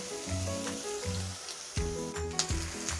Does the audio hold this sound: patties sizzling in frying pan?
yes